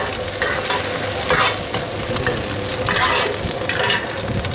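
Eggs for a loaded Thai omelette frying at a beachside street-food stall in Hat Chao Samran, Phetchaburi: a loud, steady sizzle that runs throughout, with slight swells and a few scraping stirs.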